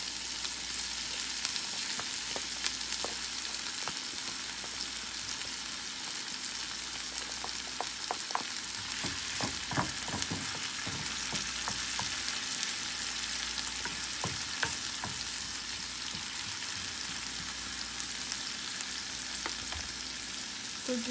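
Scallions fry in olive oil in a pan, a steady close sizzle with scattered crackles and occasional stirring scrapes, continuous and fairly quiet throughout with no voices.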